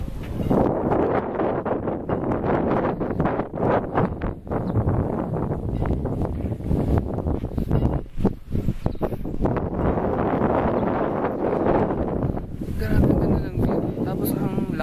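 Strong wind buffets the microphone outdoors at a hillside resort, a loud, gusty roar that rumbles and crackles continuously throughout, with some talking underneath.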